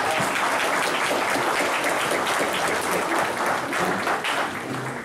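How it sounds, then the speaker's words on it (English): Wedding guests break into loud, dense applause for the couple, a sustained roar of clapping close by that holds steady before easing slightly at the end. "Give a round of applause for Brian and LeBron."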